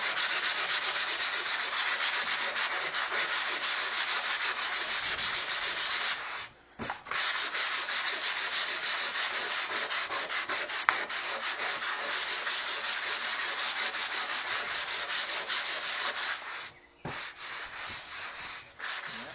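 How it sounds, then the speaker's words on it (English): Someone hand-sands a repaired hollow wooden door with 150 grit sandpaper. The rasping strokes are close and continuous and keep a steady rhythm, with two brief pauses along the way. "I'm going to go ahead and sand it and see what it looks like. This is a 150 grade sandpaper."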